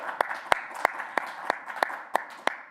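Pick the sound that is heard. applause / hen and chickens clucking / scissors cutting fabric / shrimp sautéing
applause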